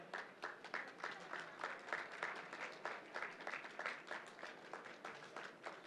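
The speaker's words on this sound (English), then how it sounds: "Please join me in welcoming to the stage with a huge round of applause." An audience applauds at a literature festival stage, a faint, fairly distant patter of clapping with a loosely rhythmic pulse that holds steady from start to finish.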